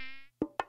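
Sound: mosquito buzzing sound effect

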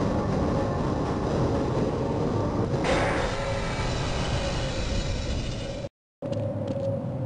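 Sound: train arriving at station in Half-Life video game

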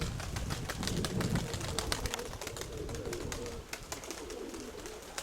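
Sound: pigeons cooing

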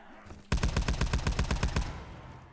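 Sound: gunfire from the Titan gun in a video game (DOORS challenge)

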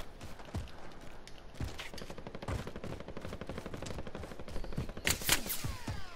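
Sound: sniper gunfire in a video game

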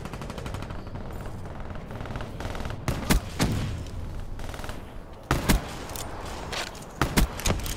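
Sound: gunshots from video game Call of Duty Black Ops III

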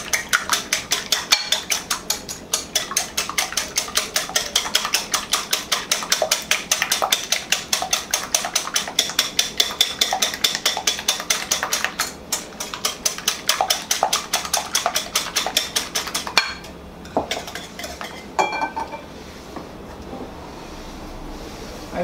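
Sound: beating eggs with salt

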